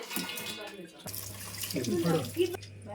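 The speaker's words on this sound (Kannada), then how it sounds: "ಸ್ಟ್ರೈನ್ ಮಾಡ್ಬೇಕು ಹಿಂಗ ಅಂದ್ರೆ ನೀರೆಲ್ಲ ಹೋಗ್ಬೇಕಲ್ಲ ಒಳಗಿಂದು" Water being strained off half-boiled corn after one pressure-cooker whistle, a short splashing pour into a sink that starts abruptly partway through and trickles on, with a voice talking over it.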